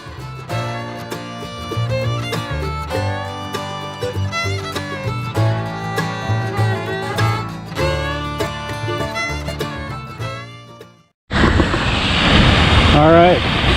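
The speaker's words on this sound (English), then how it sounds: "here's the close-up of the waterfall" A waterfall at Mossy Cave in Bryce Canyon, Utah, heard as a steady, loud rush of falling water that starts abruptly near the end, after a long stretch of music.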